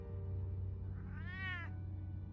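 A single drawn-out cat meow in the Batman Telltale Series game, rising and falling over about half a second above a low steady background hum.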